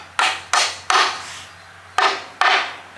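Five hard, resonant hammer strikes on wood, unevenly spaced, each ringing briefly before the next blow.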